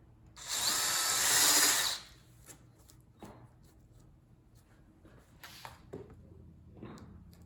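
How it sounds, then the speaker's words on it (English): An oversized drill bit used as a countersink bores into a 2x4 wood bench corner in one loud burst of about a second and a half. Faint knocks and creaks follow in a quiet room. "I'm going to use a larger bit, and we'll use that as my countersink."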